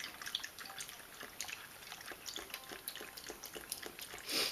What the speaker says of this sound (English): I'm going to use this organic creamy vanilla pearl soy milk.